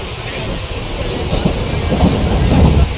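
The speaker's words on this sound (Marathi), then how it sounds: "इथे आम्हाला ट्रेन भेटलेली आहे, तुम्ही बघू शकता" A train near Palghar rumbles steadily with broad, windy noise that swells slightly toward the end, heard from on board or close by, with no clear voices.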